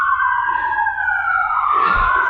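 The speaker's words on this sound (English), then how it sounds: "got to have the obligatory siren. Seems like every time we do a video, we have some type of emergency vehicle come by" An emergency vehicle siren wails steadily as it passes near a backyard garden, loud and continuous, with a low rumble of the passing vehicle swelling near the end.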